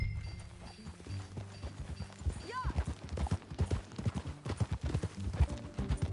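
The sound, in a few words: horse galloping in video game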